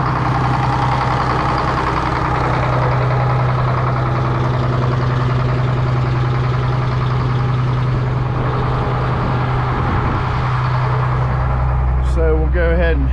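A sawmill's hydraulic pump runs with a steady low hum and engine-like drone, constant and fairly close; someone speaks over it, and near the end the drone drops and a few sharp clanks and squeaks sound.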